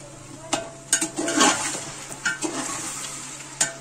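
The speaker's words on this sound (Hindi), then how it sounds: "और इसे डालने के बाद भी काफी अच्छे से हमें इसको भूनना है अपनी यखनी को।" Chicken yakhni with yogurt being fried and stirred in a pan over full flame, with a soft sizzle under several sharp spoon scrapes and clinks against the pot, close by.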